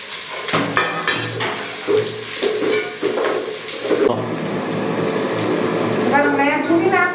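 Onions frying in hot oil with fennel seeds and cinnamon for mushroom biryani, a crackling sizzle under clattering pan and spoon stirring, with someone talking over the cooking.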